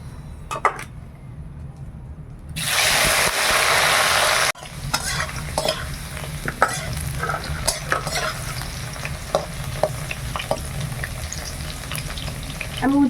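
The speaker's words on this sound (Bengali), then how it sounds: "আমি সব সবজিগুলো এক এক করে এরকম ভেজে নেব।" Village kitchen vegetables frying in oil in a pan, a close sizzling crackle broken by a burst of loud hissing steam for a couple of seconds, then renewed spattering with stirring taps, no voices.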